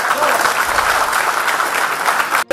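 Sustained applause from a crowd at a book launch, steady and dense clapping throughout, ending with a brief drop-out at the very end.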